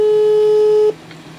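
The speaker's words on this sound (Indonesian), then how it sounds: "Sekarang aku telepon." A telephone call tone sounds as one steady, loud tone for about a second, then cuts off abruptly, leaving quiet background.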